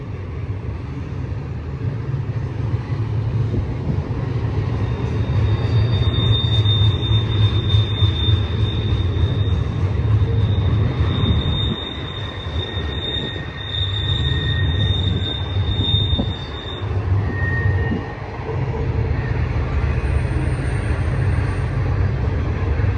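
A BNSF Z intermodal freight train rolls past eastbound on main track 2 near Milepost 60, giving a steady loud rumble of wheels and cars throughout, with a thin high squeal or whine running through the middle stretch.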